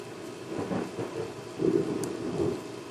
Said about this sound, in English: So if you hear some thunder, then that's outside.